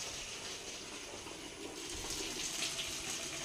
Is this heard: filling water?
yes